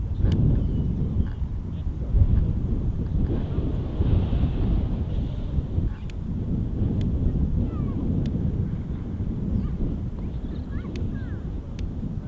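Strong outdoor wind buffets the microphone in a steady, heavy low rumble that carries throughout, with faint distant sounds mixed in under the gusts.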